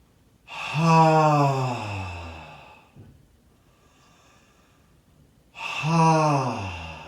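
A long, deep, breathy inhale and exhale during a voicework breathing exercise, followed by a pause, then another slow breath starts, close and clear.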